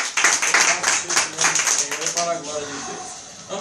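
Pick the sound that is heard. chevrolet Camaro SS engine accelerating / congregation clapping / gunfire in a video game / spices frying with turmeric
congregation clapping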